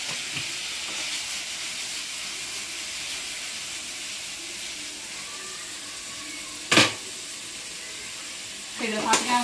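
Onion and tomato with a little chilli powder sauté in a pan, giving a soft continuous sizzling hiss throughout, broken by a sharp clatter near the end and a few knocks just after.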